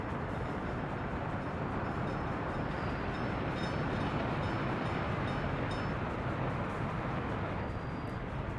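Steady, dense rumble of a coal-laden freight train rolling through the Soviet Republic city-builder Workers & Resources, a continuous broadband roar with faint clatter, unbroken for the whole stretch and free of talk.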